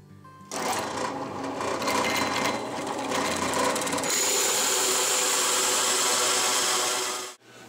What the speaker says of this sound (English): each one of these is the center of the can, so they'll be drilled out with a hole saw